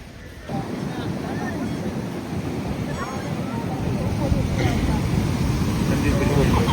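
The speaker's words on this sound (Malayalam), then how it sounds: "കടലടിക്കുന്നതായിട്ടാണ്." Sea waves wash and crash in a constant roar at Shanghumukham Beach, starting abruptly and building slightly louder, with wind buffeting the microphone.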